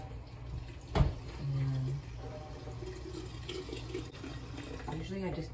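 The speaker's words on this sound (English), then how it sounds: "So I have to rinse these in some water and then let them continue to drain." Tap water runs in a kitchen sink while bean sprouts are rinsed, a soft, steady trickle and splash heard faintly, with a brief louder knock near the start.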